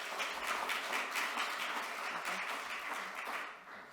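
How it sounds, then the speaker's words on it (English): Conference audience at an international type 1 diabetes meeting applauding a speaker being welcomed, a steady wash of many hands clapping from start to finish, easing off slightly at the end. "Let's give an applause to Dr. Heward"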